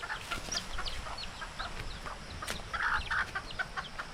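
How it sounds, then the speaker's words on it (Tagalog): Hens cluck and chatter on and off outdoors on a farm plot being cleared for cassava planting, with a scatter of bird calls over a steady rustling background, no voices. "May manok."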